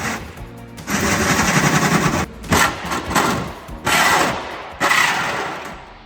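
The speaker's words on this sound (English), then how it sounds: "And then it was time to drill a hole in the boot floor." A drill bores a hole through the boot floor of a Honda Jazz, loud bursts of harsh whirring and chattering metal cutting broken by short pauses, close up.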